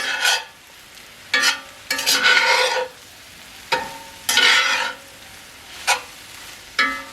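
Farm fresh eggs stirred in a cast iron skillet, a quiet background sizzle broken by about eight separate bursts of spatula scraping against the pan, close and clear with no voices.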